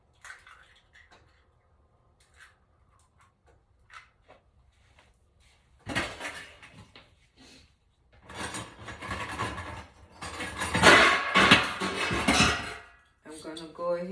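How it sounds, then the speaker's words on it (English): Eggs whisked into ricotta cheese in a bowl for a keto zucchini lasagna, a quiet start followed by rapid rhythmic scraping and clinking of the whisk against the bowl, growing louder and close. "See, I'm whisking the eggs."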